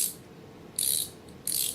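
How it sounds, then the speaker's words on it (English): A ratcheting wrench from a cheap set clicks in two short bursts of fast metallic ticks, close and crisp, separated by a brief pause, with no talk. "Ratcheting"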